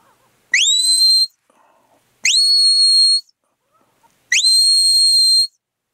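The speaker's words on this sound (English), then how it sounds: "So this is the steady or there whistle." Dog training whistle sounding the steady or stop command: three separate long, loud, shrill blasts with a steady pitch, each about a second long and separated by short silences, with no voices.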